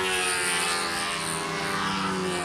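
A control-line model airplane circles at the 2010 model aircraft Nationals, its small engine holding a steady, loud, high-pitched buzz with no pauses and no talk.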